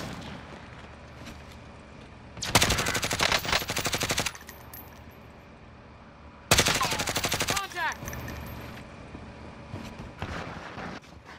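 Automatic gunfire from a Call of Duty: Modern Warfare match comes in two loud sustained bursts, each around two seconds long, with sharp rapid reports over a background of low ambient game noise.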